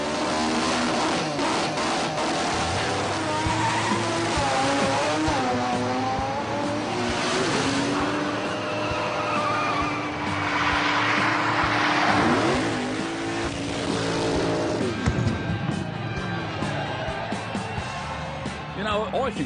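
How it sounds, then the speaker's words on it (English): Race cars roar and accelerate through a racing event, engines sweeping past with rising and falling pitch and occasional tire squeal, loud and continuous while someone talks over them. "I think the racing event they put on here is sensational."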